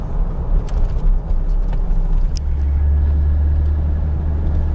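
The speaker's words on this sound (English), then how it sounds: "And there's just a few cars." Light traffic on a quiet Toronto road during lockdown, a car passing close with a steady low engine and tyre rumble that swells into a sustained drone, no talk.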